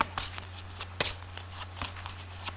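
Tarot cards riffling and slapping in quick, irregular bursts at close range, with a steady low hum underneath.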